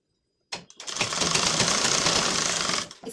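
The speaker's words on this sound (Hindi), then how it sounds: "इसे आप डबल सिलाई भी दे सकते हैं, मैं सिलाई दे रही हूँ।" A sewing machine runs in one steady, close, continuous burst of about two and a half seconds while stitching the folded half-inch hem of a tucked blouse, starting and stopping abruptly.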